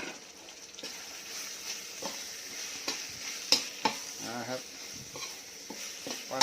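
Field rat meat stir-fried with red curry paste in a hot pan, with steady sizzling and a few sharp utensil clacks against the metal.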